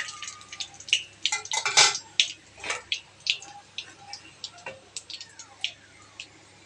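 Spices such as cumin and bay leaf being stirred in hot oil in a pan for rohu fish curry, with scattered clinks and scraping taps of a spoon against the metal pan, fairly close.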